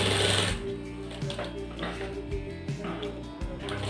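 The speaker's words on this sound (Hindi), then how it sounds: "और अपनी आस्तीन की पट्टी की सिलाई पूरी करेंगे।" A sewing machine runs steadily while stitching the sleeve strip of an apple cut shirt, giving a quiet, continuous whir with a faint repeating mechanical tick of the needle throughout.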